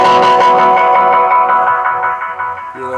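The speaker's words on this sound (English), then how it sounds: "the cool thing about the Space Echo is I can do this" Roland Space Echo tape delay on a keyboard, giving a dense distorted chord wash with repeating echoes that slowly decay and blur into one another, loud and alone with no talking.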